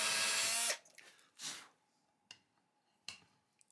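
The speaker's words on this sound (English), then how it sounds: "we're going to drill out the center of these holes so this part of the T-nut can drop down in there" A power drill bores out the centers of holes for T-nuts in guitar body work, giving a loud opening whir that stops abruptly, followed by a few shorter bursts and clicks in a quiet room.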